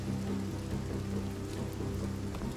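Steady video game rain hisses evenly, with a faint low hum underneath and scattered drop-like patters, no voices.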